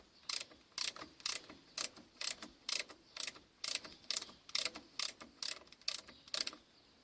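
A lathe's worm and wheel mechanism turns the chuck with a steady run of about fifteen evenly spaced ratcheting clicks, close and quiet, each one crisp and metallic.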